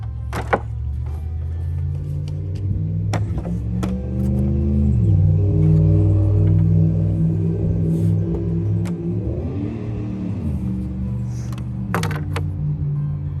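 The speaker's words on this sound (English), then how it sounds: "Another loud truck." A loud truck passes on a major highway, its deep engine rumble swelling and shifting as it goes by, with a second surge of rumble a few seconds later and no speech.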